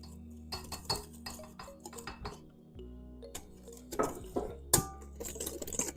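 Gluten-free bread dough with olive oil being stirred in a bowl, with irregular clinks and scrapes of a utensil against the bowl and occasional sharper knocks, fairly quiet and close.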